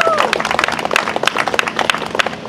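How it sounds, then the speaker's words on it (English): Audience at an outdoor New York parks announcement breaks into quick, dense clapping, a busy patter of many hands at close range with some voices mixed in. "let's have a round of applause for Charisse Palomino, New Yorkers for Parks"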